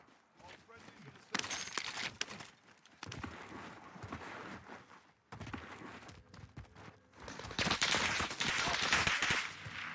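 Gunfire from a Call of Duty Warzone match, a sniper taking shots amid bursts of shooting and movement sounds, several loud cracks in clusters, with players talking over it.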